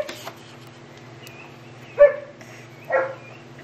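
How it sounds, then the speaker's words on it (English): A neighbor's dogs barking at a distance, two short separate barks about a second apart, faint against a quiet indoor hum. "Neighbor's dogs."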